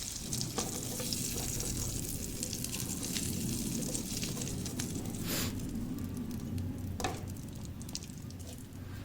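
Chicken pieces frying in mustard oil, giving a continuous dense crackling sizzle that stays even across the whole stretch, with a couple of sharper pops standing out; no voices.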